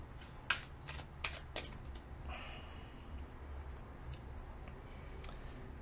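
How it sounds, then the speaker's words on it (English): Tarot cards shuffled by hand, a few crisp riffling bursts early on, then quieter soft handling of the deck; close and fairly faint in a quiet room. "2 more shuffles."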